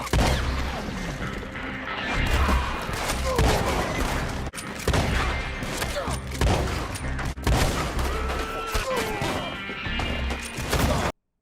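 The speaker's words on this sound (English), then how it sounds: "A lever-action weapon that's also a shotgun." Lever-action repeating shotgun firing in Red Dead Redemption 2, a string of heavy booming blasts with crashing impacts and cycling clatter between shots, loud and close amid busy game noise.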